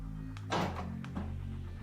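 A dull mechanical thunk of newly replaced central locking actuators engaging on a VAZ-2114 car, followed by a second softer clunk about half a second later, close by over a steady low engine hum.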